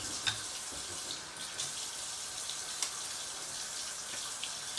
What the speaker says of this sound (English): I know that water is probably loud for y'all, so I'll try to remember to turn it on and off.